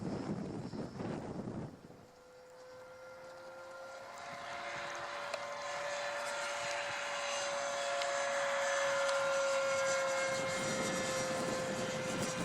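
A steady, high-pitched turbine whine of an E-flite F-15 electric ducted fan model jet flying overhead, rising gradually and holding, with wind buffeting the microphone.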